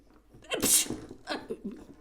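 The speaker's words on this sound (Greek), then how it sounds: "μου ήρθες πολύ κοντά και φταρνίστηκα" A single loud, close sneeze bursts out sharply and is followed by a brief, breathy vocal trailing off.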